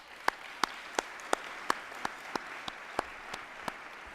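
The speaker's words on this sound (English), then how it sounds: "Please join me in offering another round of applause for Jason and the people that put that video" Applause at an evening defense awards ceremony comes as sparse, evenly spaced single claps, steady and moderately loud, with no voices.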